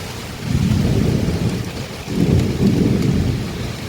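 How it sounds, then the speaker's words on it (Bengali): Thunder rolls in two deep, loud swells over the steady hiss of a morning rain just beginning to fall on a garden, with no voices. "বাজও পড়ছে, বৃষ্টিটা সেরকম অর্থে এই শুরু হচ্ছে"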